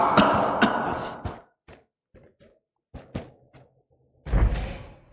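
A character coughing in the video game Dying Light: The Beast: a few sharp coughs in quick bursts, followed by scattered soft thumps and a final loud rough cough near the end.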